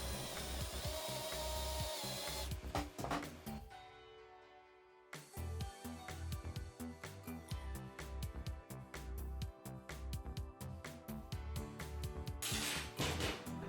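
Power drill boring holes through shaped pallet-wood pieces for aluminum rods, loud grinding bursts with a brief pause midway, then steady chattering as the bit cuts through the wood.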